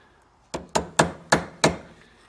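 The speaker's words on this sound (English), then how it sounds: "then you can put it on your vise and tap it with your hammer." A hammer taps a car door part clamped in a vise, five sharp metallic strikes in a steady rhythm about a third of a second apart, close and loud with brief ringing decay between blows.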